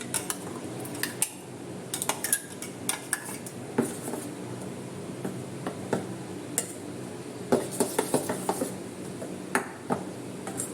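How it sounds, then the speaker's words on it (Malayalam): A spoon clinks and scrapes against a metal pot while ground banana stem is mixed into a curry, with sharp irregular taps and rattles standing out over a quiet kitchen background. "ഇനി അത് നന്നായിട്ട് ഇതിൽ ഇതിലോട്ട് മിക്സ് ചെയ്യാം"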